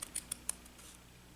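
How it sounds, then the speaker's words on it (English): Scissors trimming ribbon on a handmade fold card, four quick crisp snips close by in a quiet room. "the very last thing I'm going to do is to trim my ribbon"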